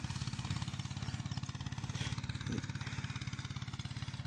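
A tractor engine chugs steadily in a sugarcane field, its rapid, even pulsing beat loud and close throughout, with a brief higher whine midway.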